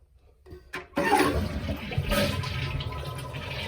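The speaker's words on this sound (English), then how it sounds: "Now we're flushing all the water out." A toilet flushes to drain the water during a deep clean with citric acid, starting with a couple of soft clicks from the handle before a loud, steady rush of swirling, draining water.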